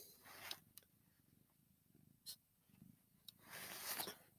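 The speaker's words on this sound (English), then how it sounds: "Oh, you're purring." A pet cat purrs softly and close, a low rumbling drone under faint rustling and a few sharp clicks, no talk.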